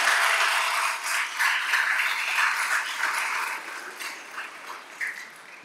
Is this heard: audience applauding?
yes